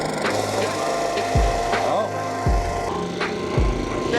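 A rusty push reel mower's reel turns against its bed knife, giving a repeated scraping, rubbing grind with distinct strokes roughly every second, close and fairly loud.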